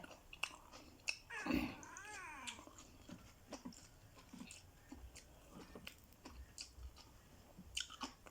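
Someone chewing and biting while eating sticky rice with pork larb and fresh vegetables, close and quiet, with soft irregular crunches and mouth sounds over a low background.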